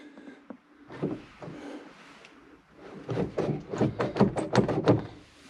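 The door handle on a 1963 Chevy II Nova convertible is pulled without the door opening: a few soft clunks, then a close run of quick rattling clicks and taps as the handle is worked repeatedly.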